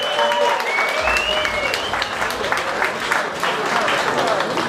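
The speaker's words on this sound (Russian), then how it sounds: "Давайте поддержим бойцов бурными аплодисментами." Loud, sustained audience applause with whistles and crowd noise at an Arctic Mix Fight event in Murmansk, greeting the fighters from St. Petersburg and Murmansk.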